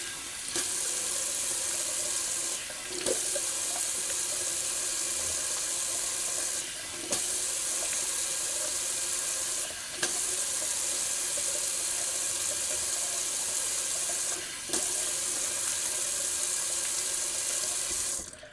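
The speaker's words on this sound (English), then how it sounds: "let me do a quick cold water rinse" Cold water runs steadily from a tap into a sink for a rinse, a constant close hiss broken by a few short pauses and splashes.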